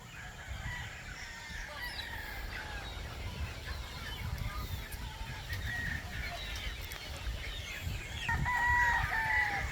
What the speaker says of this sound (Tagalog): Mamaya humuli kayo ng tandang.